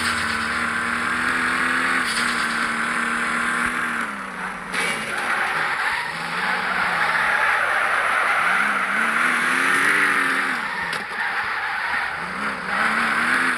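A car in the driving game Car Simulator 2 skids and slides, its engine droning and shifting pitch under a continuous tyre-scrub hiss, steady and close throughout.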